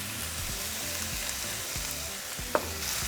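Beef steak with salt, black pepper and garlic sizzling and browning in a pan, a steady close crackle with soft recurring stirring scrapes and one sharp clink.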